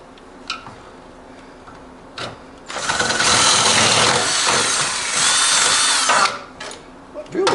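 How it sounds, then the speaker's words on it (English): A power drill whirs loudly and steadily for about three seconds, then stops, with scattered clicks and light handling noises before and after, while drilling to fit a Class III receiver hitch on a Hustler Turf Super Z zero-turn mower. "Hopefully we can get the drill down in there."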